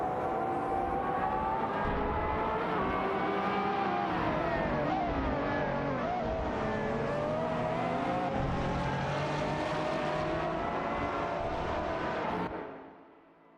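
Racing cars in a video game, including a Pagani Zonda R and a McLaren, roar in a dense, sustained engine drone with shifting revs, loud and close, before fading out at the end.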